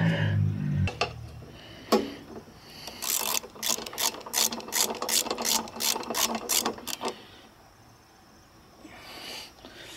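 Ratchet clicking in quick repeated bursts while bolts are tightened down on a push mower's gas tank gasket, close and fairly loud, with brief pauses between strokes.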